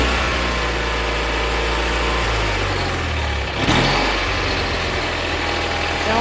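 An Allis Chalmers 917 hydro garden tractor engine runs steadily and loud up close, with its pitch dipping and bogging briefly midway before recovering to a steady drone.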